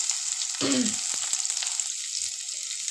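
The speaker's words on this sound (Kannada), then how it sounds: "ಅದಕ್ಕೆ ಸ್ವಲ್ಪ ಎಣ್ಣೆ ಹಾಕ್ಕೊಳ್ಳೋಣ ಒಂದು ಎರಡು ಸ್ಪೂನಷ್ಟು ಸ್ವಲ್ಪ ಸಾಸಿವೆ ಹಾಕ್ಕೊಳ್ಳೋಣ ಎರಡು ಒಣ ಮೆಣಸಿನ್ಕಾಯಿ ಸ್ವಲ್ಪ ಈರುಳ್ಳಿ" Mustard seeds, dry red chilies and onion frying in oil in a kadai, a bright continuous sizzle with a brief burst of crackling and a few stirring scrapes, close by, no speech.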